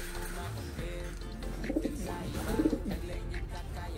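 Japan line pigeons give low, soft cooing calls, two short bursts over a constant background hum, with faint voices nearby.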